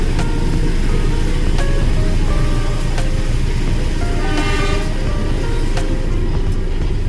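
KA Serayu economy train arriving at Kiaracondong station in Bandung, with a loud continuous rumble of the moving carriages, scattered squeals and clicks from the wheels and a few sharp clanks along the way.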